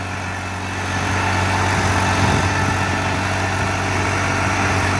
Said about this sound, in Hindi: लगभग 100 RPM ड्रॉप करके चल रहा है ट्रैक्टर, रोटर पंप ट्रैक्टर है और लीवर फुल डाउन है